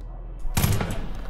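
A single sharp gunshot in the Far Cry 5 video game, loud and close, cracking out about halfway through and trailing into a short reverberant tail with no talk over it.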